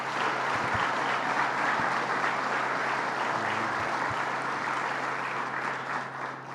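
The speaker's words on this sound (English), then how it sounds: "So let's give them a round of applause." Sustained applause fills a room at a governor's jobs-deal announcement, a thick, even wash of many hands clapping with a faint low hum beneath, fading a little near the end.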